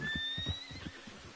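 A horse in Red Dead Redemption 2 gives one loud, close whinny that rises and breaks into fluttering snorts, heard alone.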